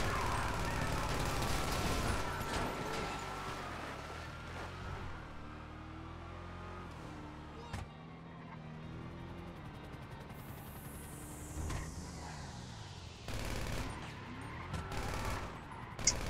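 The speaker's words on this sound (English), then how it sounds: "Bro, stop shooting." Gunfire in GTA Online, bursts of shots crackling over running car engines and revving traffic, with scattered sharp reports near the start, middle and end, loud and busy without talk.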